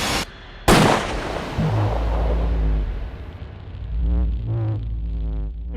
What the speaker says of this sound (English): And then when I got close to Chris, I heard a gunshot.